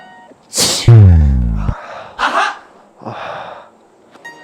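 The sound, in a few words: sneeze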